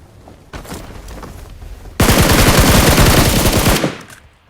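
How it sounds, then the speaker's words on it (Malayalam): Sniper and machine gun fire in PUBG Mobile: scattered distant shots, then a loud, close burst of rapid automatic fire lasting nearly two seconds before fading. "പുറകിൽ ഒരു സ്നൈപ്പർ ഷോട്ടും വന്നു."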